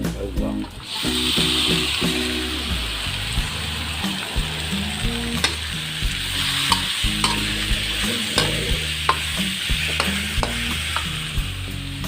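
Frogs sizzle and spatter in a hot wok while a utensil scrapes and stirs them in steady, repeated strokes.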